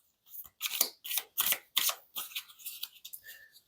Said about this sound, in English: You shuffle them into one pile.